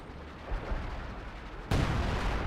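Artillery barrage in the World War II strategy game Company of Heroes 2, a rolling rumble of distant shell impacts building up, then a sudden louder, closer blast that continues as heavy booming.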